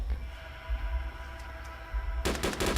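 Rapid bursts of gunfire from the video game Arma 2 DayZ, a low rumbling bed giving way to a loud, dense volley of shots near the end.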